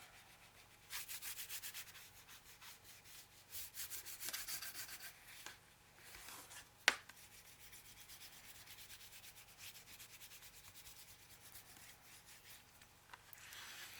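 Paper being burnished by hand while binding a dos-à-dos book, heard as a soft, steady rubbing and sanding friction in repeated strokes, fairly quiet and close, with one sharp tap partway through.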